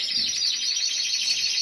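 Pet birds chirping close and loud, rapid high twittering calls overlapping in a continuous stream, no voices.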